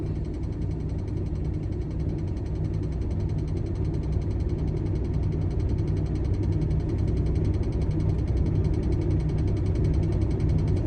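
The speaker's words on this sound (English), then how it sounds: "Listen for that air release and you'll know the air compressor has cut out" A 2019 Peterbilt truck with its air compressor building pressure, heard as a steady loud engine idle rumble that runs unchanged throughout with no clear air release.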